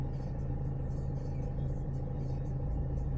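Steady low rumble and whir of a car engine idling and pulling away gently during a driving lesson, constant and close inside the cabin.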